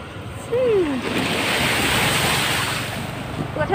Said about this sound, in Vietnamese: Suối lại trước mặt rồi mọi người